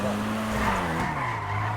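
Car in a roleplay video game drives and skids, a steady tire squeal gliding over continuous engine drone, loud and close with no talk.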